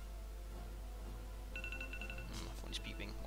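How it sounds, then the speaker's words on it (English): A phone gives a quick run of short, evenly spaced beeps, followed by a brief ringtone-like burst, heard over a steady low hum and game audio while someone talks. "My phone is beeping."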